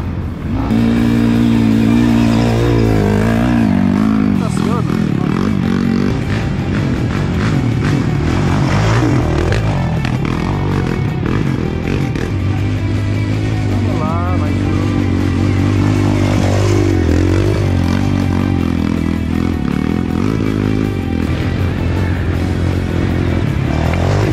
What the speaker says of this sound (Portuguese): Sobe o motor, ó, sobe brincando.